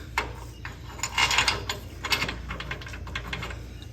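Clicking ratchet wrench turning bolts while power steering is installed on a 1952 Chevy truck, several quick bursts of metallic ratcheting, close and fairly crisp, with no talking.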